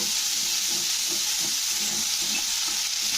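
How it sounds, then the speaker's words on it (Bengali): Ginger paste frying in hot oil gives a steady, close, dense sizzle with soft scraping of stirring running underneath, continuous and loud throughout. "পেস্টটা দিয়ে তেলের সঙ্গে একটু কষে নিতে হবে"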